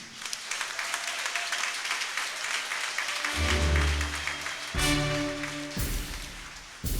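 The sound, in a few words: congregation applause for the vicar general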